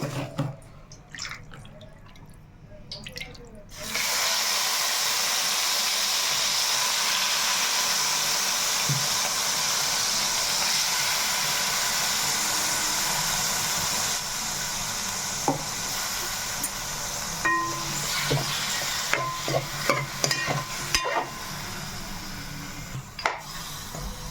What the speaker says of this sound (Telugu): వేసుకుందాం ఇప్పుడు చికెన్ వేసుకోవాలండి